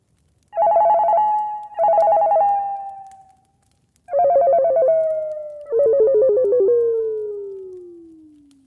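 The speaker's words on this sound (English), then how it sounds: "I remember hearing my cell phone ringing throughout the night." A cell phone ringtone plays in four electronic warbling bursts, the first two close together, then a pause, then two more with the last one trailing off in a falling tone, loud and alone.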